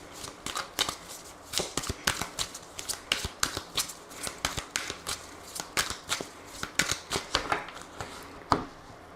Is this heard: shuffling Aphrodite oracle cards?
yes